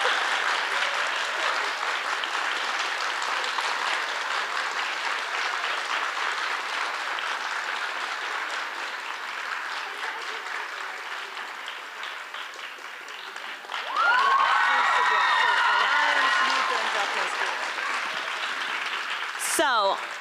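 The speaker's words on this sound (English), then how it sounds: "To announce one more time with a big round of applause these three schools" Sustained applause from an audience at a youth ballet competition awards ceremony, dense and steady throughout, swelling louder and closer near the end with a voice briefly rising over it.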